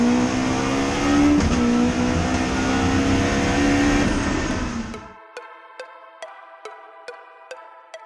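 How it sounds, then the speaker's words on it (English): B-series all-wheel-drive Honda Civic race car roars at full throttle for about five seconds, loud and close with rising engine tone, then cuts off abruptly, leaving a string of sharp rhythmic clicks and taps in near silence. "When you're on the top end and you listen to the car coming"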